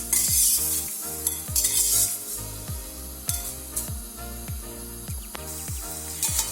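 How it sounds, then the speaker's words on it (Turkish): Onions and butter sizzle in a pot for a vegetable lentil soup, a steady frying hiss with occasional stirring scrapes and clinks throughout. "Önce soğanlarımı ilave ediyorum tencereme. Hemen arkadan tereyağımı ilave ediyorum."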